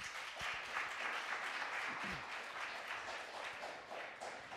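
Audience applause after a talk on globalisation and employment, a steady wash of clapping lasting the whole stretch at fairly low level, with a few brief murmurs beneath.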